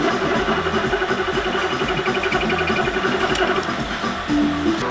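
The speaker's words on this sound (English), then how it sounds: "All right, so now we're gonna run the countersink." Countersink bit run by a power tool into a stud hole in a Ford 302 SVO cylinder head, a steady continuous whirring drone throughout, close and loud, dipping briefly near the end.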